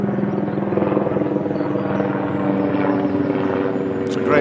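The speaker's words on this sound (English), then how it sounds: "You notice there's always helicopters flying overhead, something I've noticed here almost constantly." A helicopter passes overhead in a residential area north of Garthdee near the old Deeside railway line, a steady loud rotor and engine drone that holds throughout with no talk.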